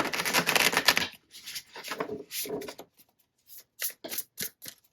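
Tarot cards are shuffled in quick riffling bursts, followed by a few short, sharp flicks and taps with quiet gaps between them.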